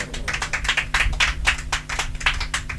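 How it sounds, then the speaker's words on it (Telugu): A church congregation claps loudly together, a dense run of hand claps with steady rhythm filling the whole stretch, no talk over it. "ఒకసారి గట్టిగా చప్పట్లు కొట్టండి."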